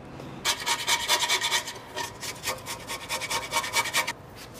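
A tool scraping rust from the suspension of a 1987 Toyota Supra MKIII, a rapid rhythmic rasping close by for about four seconds, loud and steady with no talking.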